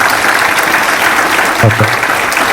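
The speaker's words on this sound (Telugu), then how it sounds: "అందరు కూడా గట్టిగా చప్పట్లు కొట్టారు" An audience at a girls' education and sports event claps loudly, a dense sustained wash of applause close by, with a brief voice cutting through near the end.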